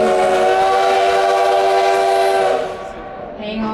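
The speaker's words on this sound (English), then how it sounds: "Now that last whistle, that tells the people at the station that we're coming in." A long sustained whistle from the 1880 Train, a tourist steam railway between Keystone and Hill City, sounds loud and close for a few seconds as the train arrives at the depot, then cuts off to rumbling.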